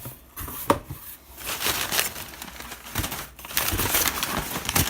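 Packing paper crumples and crinkles in uneven bursts while a Ugee M708 graphics tablet is unboxed from an oversized box; the rustling is close and fairly loud, with no talking.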